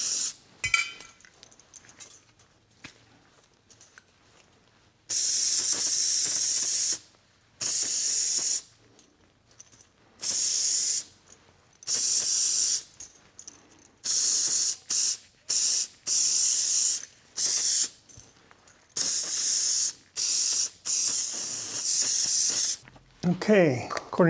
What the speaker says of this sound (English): They've been sprayed with Otis dry lube.